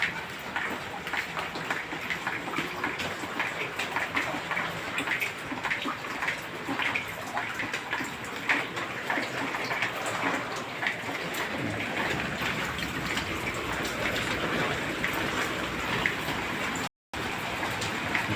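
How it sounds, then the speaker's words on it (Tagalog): Heavy typhoon rain pours steadily onto and through a house roof where one metal roofing sheet is missing, water dripping and splashing indoors in a continuous dense hiss with no talk. "Kaya nagkaroon ng tagas ang tubig dito sa loob ng bahay"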